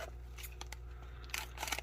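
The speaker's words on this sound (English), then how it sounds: "So I'm gonna break out the scissors here." Scissors snip through an MRE ration pouch that has no tear notch, giving several quiet, close crisp cuts and crinkles over a low steady hum, with a louder burst of snipping toward the end.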